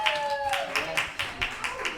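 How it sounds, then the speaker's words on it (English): A small group claps at an art opening reception in a Los Angeles gallery house, a few sparse, uneven claps that fade quickly, with a tonal hum underneath. "You can clap if you want."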